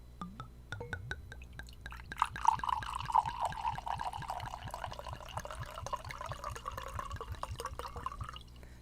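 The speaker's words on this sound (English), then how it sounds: "It's a nice, healthy, generous pour." A drink is poured into a glass at close range, a steady liquid stream with dense glugging and bubbling that rises in pitch as the glass fills, quiet and alone.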